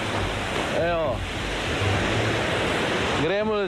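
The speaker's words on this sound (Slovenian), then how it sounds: "gremo tukaj čez vodico" Small stream water rushes and splashes constantly at close range while people cross it, with two brief voice-like swoops rising over the noise.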